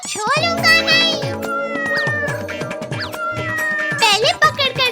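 Cartoon cat meowing and caterwauling in a Hindi animated comedy, several loud, drawn-out, pitch-bending meows in quick succession, mixed with background music and cartoon effects, no talk.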